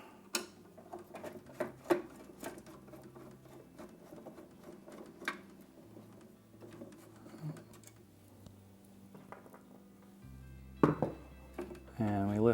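Outer screws coming out of a crypto miner's fan bracket, sharp clicks and small metallic taps spread irregularly, then louder clattering near the end, close and fairly quiet with faint talking.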